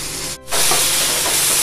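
Onion and tomato sautéing in a pan for onion chutney, a steady loud sizzling hiss that drops briefly near the start, then continues evenly to the end with no talk.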